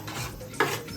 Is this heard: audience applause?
no